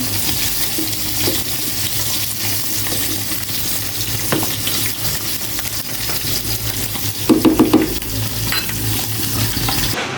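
Fried saba banana fritters and ginger being stirred in a pan, a steady soft sizzle with scraping movement and a short burst of clinks near the end, no talking.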